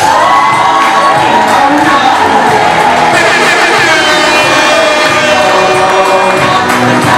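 Wedding guests at an official wedding ceremony cheer and shout loudly, with children's voices, whoops and a dense crowd roar sustained throughout, close and continuous.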